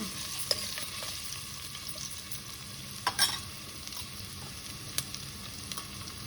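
Onion, cumin and mustard seeds frying in oil with crushed ginger paste added for a capsicum and egg curry, giving a low steady sizzle with a few faint scrapes of stirring.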